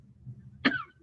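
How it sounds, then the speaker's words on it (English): A single sharp cough rings out close by after a faint murmur of room noise, brief and abrupt. "now that you're coughing, you got me a little bit worried"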